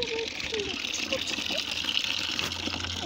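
A water pump motor runs steadily while water gushes out in a continuous rushing stream, with voices talking over it.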